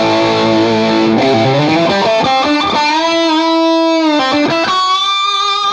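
Electric guitar dialed in for a tone through the ToneX plugin, playing a short, loud, distorted melodic phrase of sliding, bending sustained notes with a singing, harmonically rich voice.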